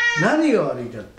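Close by, a house cat lets out a loud meow with a rising and falling pitch, overlapping someone speaking Japanese.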